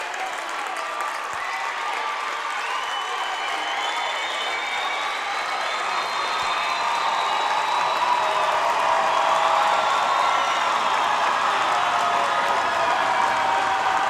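Loud, sustained roar of a crowd in a high school gym during a boys basketball state qualifier at Letchworth High School, cheering and clapping that builds steadily, with occasional whoops.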